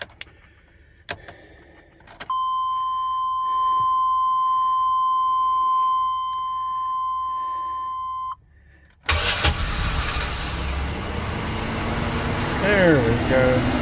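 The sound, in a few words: 1998 Chevrolet Express 3500 van engine cranking and starting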